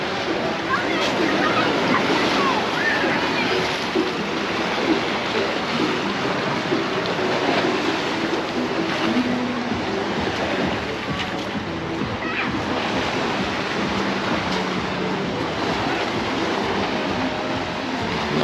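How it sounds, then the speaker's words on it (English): Small waves wash continuously onto a sandy beach at Palmanova, Mallorca, a steady soft hiss of surf with gentle surges, fairly close. "Nice little waves hitting the sand."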